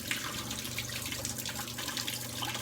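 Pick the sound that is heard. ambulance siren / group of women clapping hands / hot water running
hot water running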